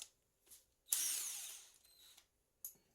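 A power drill drives panel screws back into a Lincoln Electric SP-35 Plus welder in one sharp whirring burst of about a second, set between short quiet clicks and small tool noises.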